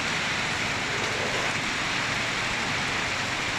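Steady rain pours in Kampot, Cambodia, a dense, even hiss of falling water that holds at one constant level throughout, with no voices or other sounds.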